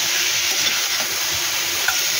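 Elephant foot yam stalks fry with onion in a hot pan, giving a loud, steady, close sizzle and hiss that runs without a break, with a faint stir scrape now and then.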